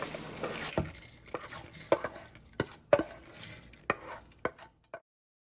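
Lentils tipped onto pumpkin in a pressure cooker, a series of scattered clinks and soft pattering knocks against metal, fairly quiet and close, trailing off into silence.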